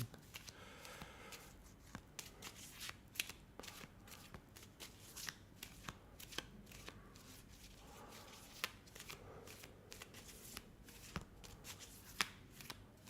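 Tarot cards are shuffled by hand over and over, a soft, quick riffling and slapping that runs quietly and steadily throughout with no voices.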